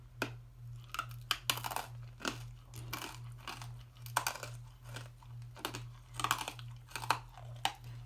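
Close, quiet chewing of crunchy Warheads sour candy: repeated sharp crunches and bites fall in an uneven rhythm over a faint steady low hum, with no speech.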